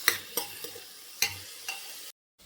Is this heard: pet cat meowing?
no